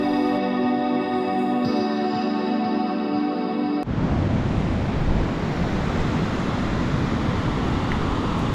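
A steady, full roar of surf washing in at Ladghar Beach on the Konkan coast during the monsoon, close and loud, taking over after a humming motorbike engine tone cuts off partway through.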